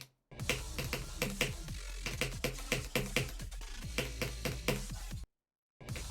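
Computer keyboard keys clack rapidly and repeatedly while someone plays Monkey Ball, with a close, dense run of presses. A brief gap of silence comes near the end before the typing resumes.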